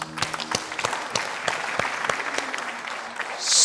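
A studio audience at a game show breaks into loud, dense applause, a continuous rattle of many hands clapping close by that swells again toward the end, with no speech.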